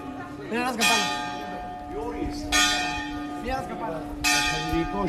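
A church bell in Capri rings out loud and close, three resonant strikes a couple of seconds apart, each with a long ringing hum between, while people chat quietly nearby.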